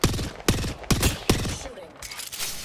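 Gunfire in Apex Legends: four loud, evenly spaced sharp shots close up, each followed by a ringing tail, then a fainter fifth shot.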